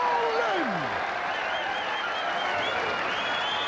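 An arena crowd at the 1990 BDO darts world championship final, roaring and applauding in a steady, loud, sustained wash, with whistles rising above it.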